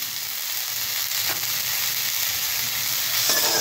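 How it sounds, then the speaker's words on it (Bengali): Eggplant frying in a little oil in a pan gives a close, continuous sizzle with light stirring noises throughout. "জাস্ট এইরকমভাবে আমি কম তেলের মধ্যে বেগুনটা ভেজে নিলাম"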